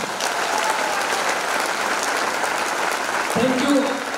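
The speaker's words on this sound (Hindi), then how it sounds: "जोरदार तालियां दोस्तों।" A crowd at a business leadership network speech event breaks into loud, sustained applause, a dense roar of clapping throughout, with a voice briefly speaking near the end.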